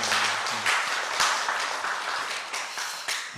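Church congregation applauding a vocal ensemble after a Sunday morning service performance; soft, scattered clapping in a hall, fairly faint and continuing unevenly for a few seconds.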